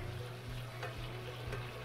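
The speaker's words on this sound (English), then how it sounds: "I have a 4 tablespoon of oil in here, and I'm frying my garlic." Garlic fries in about four tablespoons of oil for a kofta curry, giving a steady, soft sizzle. A few light stirring scrapes cut through the hiss, and no one speaks.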